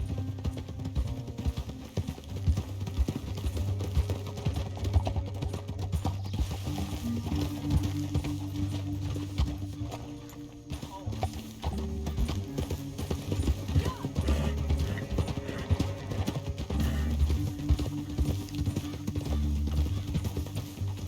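Horses in Red Dead Redemption 2 clopping along steadily, hooves thudding under a low music bed with occasional voices over the top.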